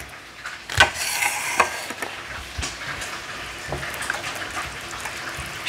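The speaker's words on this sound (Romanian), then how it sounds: "Și vom amesteca bine." Butter being stirred into hot risotto in a pot, a soft wet scraping and squelching with a few sharper clinks of the spoon early on, steady and close with a faint sizzle beneath.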